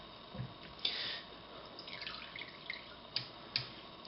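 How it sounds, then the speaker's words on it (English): Marinade dripping off strips of beef jerky makes a few faint, sparse drips and small liquid taps over a quiet background, with no talk. "I just try to get as many drips off. It'll drip down."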